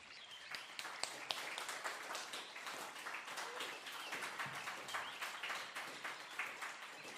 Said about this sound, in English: let's warm up this room for Ato with the clapping